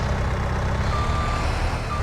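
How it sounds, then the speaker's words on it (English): Reversing beeps from a skid steer backing up to park in Farming Simulator 22, a steady electronic tone over a loud continuous engine rumble, close. "We'll just go and park our skid steer right beside this machine shop."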